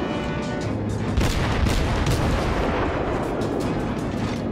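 Naval artillery gunfire in the World of Warships battleship game, with the German cruiser Kolberg engaging the battleship Kongo: a dense, continuous barrage of heavy booms and rumbling blasts, loud and layered throughout.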